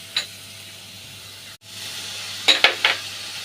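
Papad curry masala with turmeric and salt stirred in a pan, a low steady sizzle broken by a few short scraping strokes and one brief gap, close and quiet with no talking.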